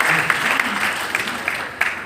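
Applause for an honoured guest at a Sunar community event in Meham, Haryana, steady crowd clapping with a few sharper individual claps standing out.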